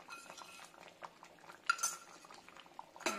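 Cardamom powder being stirred into ada pradhaman, a jaggery-based Kerala dessert, in a pot: soft, scattered clinks and scrapes of a spoon against metal, with a sharper clink near the end.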